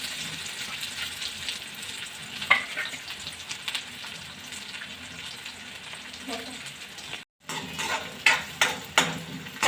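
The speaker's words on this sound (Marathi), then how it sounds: "कांद्याला चांगलं भाजून घेऊया आपण।" Onion sautés in hot oil with cumin seeds, giving a steady close sizzle with occasional stirring clatter of a utensil against the pan; a voice speaks now and then over the frying.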